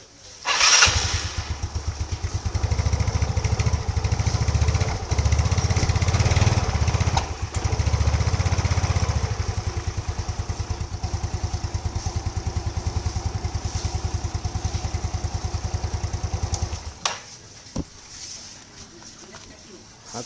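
A motorcycle with a disconnected coil socket cranks and starts, then runs at a steady, close, rapid-firing idle before cutting off and falling quiet near the end, with some speech underneath.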